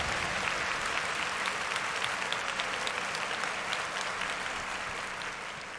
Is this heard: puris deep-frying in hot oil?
no